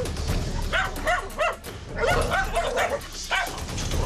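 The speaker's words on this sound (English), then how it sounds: "He starts getting real aggressive with the dogs in the house right there." Dogs inside a house bark and yip aggressively in repeated bursts at close range, with whimpers between and other sounds scattered around them.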